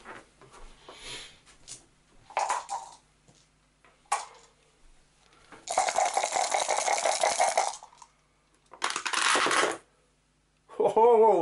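Four dice rolled in a tabletop board game make bursts of clattering rattles. Two longer shaking rattles of about two seconds each stand out among shorter clicks and taps, and a brief voice comes in at the end.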